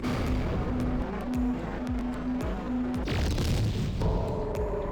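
A Chrono Scepter weapon in Garry's Mod opens a black hole with a deep booming whoosh, over repeated pulsing tones and a swelling roar that surges about three seconds in.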